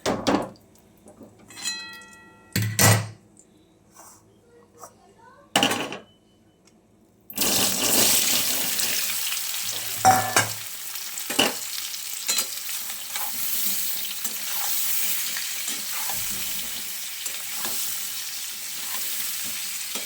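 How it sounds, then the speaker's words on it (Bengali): Potato pieces frying in salted oil in a wok for a vegetarian potato dum. A few clanks and bumps lead into a loud, continuous sizzle that begins about a third of the way in, with occasional stirring scrapes. "আলুটা ভাজবো তো"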